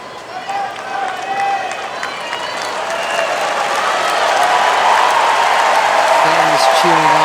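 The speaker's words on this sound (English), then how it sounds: "Fans cheering on the last American woman in singles." Tennis crowd at a 2021 US Open third-round match applauding and cheering in a broad, steady wash that builds louder toward the end, with a short vocal shout near the close.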